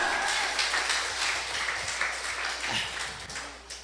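A church congregation applauds during worship, a broad, steady wash of clapping that fills the room from start to finish with no clear voices above it.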